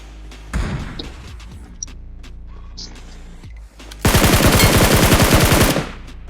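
Gunfire rings out in BGMI (PUBG Mobile): scattered thuds and single shots at first, then a loud, rapid automatic burst of evenly spaced rounds lasting about two seconds before cutting off.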